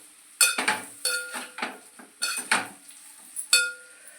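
Fried sweet potato pieces tipped into a pan and stirred, with sharp metallic clinks and scrapes of a spoon against the pan in irregular bursts and a faint sizzle between them, close and fairly quiet.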